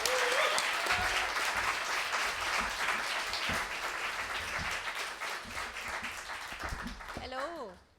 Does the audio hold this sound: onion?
no